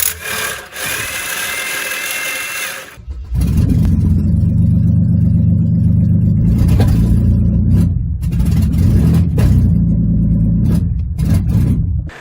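An ex-police Holden Commodore engine, found parked in a hedge, runs rough with a loud, uneven low rumble that sags and bogs down in places, some surging revs, no talking.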